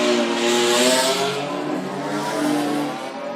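BMW race cars circulate behind a Toyota 86 pace car at Zwartkops raceway, engines droning and revving loudly as they pass close by, the pitch rising and falling with a faint tire squeal and no voices.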